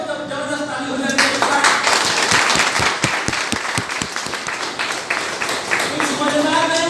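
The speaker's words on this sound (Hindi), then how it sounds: "कोई तो जबरदस्त ताली हो जाए।" Audience clapping at a live event in Hindi, swelling as applause with rhythmic unison claps in the middle, loud and continuous over about seven seconds, with voices and background sound mixed in.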